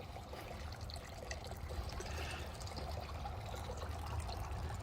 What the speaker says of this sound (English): They have a beautiful fountain to enjoy the sound of the water coming down.